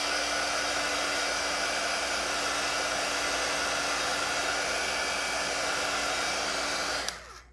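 A hair dryer blowing on a watercolor painting runs as a steady, loud whooshing drone with a constant hum, then cuts off abruptly near the end.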